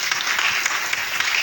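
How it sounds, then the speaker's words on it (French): A congregation at a French-language youth church gathering applauds the brothers, a steady, dense wash of clapping throughout, fairly loud and without speech. "on peut d'abord applaudir les frères"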